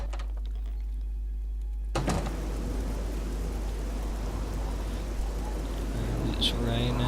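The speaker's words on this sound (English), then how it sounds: "And it's raining." Heavy rain in the modded video game Elder Scrolls Oblivion starts abruptly after a quiet moment, then pours as a loud, steady hiss with a faint low rumble underneath.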